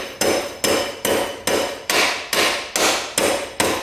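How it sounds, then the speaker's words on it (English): A hammer taps a stuck rear brake caliper piston on a dirt bike: nine sharp metallic blows in a steady, even rhythm, loud and close, with no talking. "So I think if we tap that with a hammer, it might break loose."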